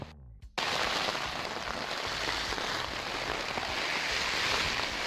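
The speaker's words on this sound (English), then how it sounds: "As you can hear, it's still raining." Steady rain falls on a tent during wild camping beneath the Triple Buttress of Coire Mhic Fhearchair, a dense close patter that continues without a break after a brief quiet start.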